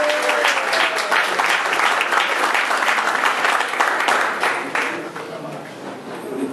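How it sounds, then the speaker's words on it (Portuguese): A crowd applauds steadily at a live music show, a dense patter of many hands clapping that gradually thins and softens toward the end. "erá acompanhado pelos músicos Abilton Pedro, para quem eu peço uma salva de palmas no contrabaixo."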